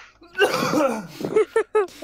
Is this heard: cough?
yes